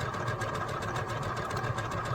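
A home sewing machine running an applique stitch on fabric for a maple leaf garden flag, a steady close mechanical hum with a fast, even rhythmic pulse throughout.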